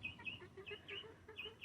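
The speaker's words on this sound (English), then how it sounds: "He's getting ready to cock-a-doodle-doo" Chicken calls and clucks at a coop, with repeated short high-pitched bird calls in a steady rhythm over low farmyard rumble; close and moderately loud, no crow fully evident.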